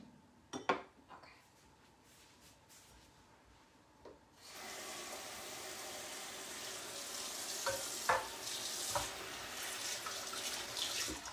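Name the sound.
stirring pizza soup in a cooking pot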